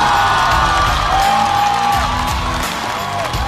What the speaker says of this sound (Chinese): 我们掌声有请嘉宾出场。